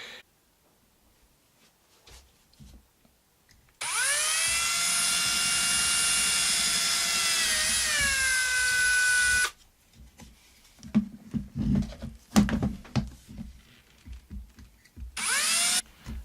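An electric drill with a 2.5mm bit whines at high speed for several seconds, pitch dropping slightly under load, then stops; handling clatter follows before a second short burst.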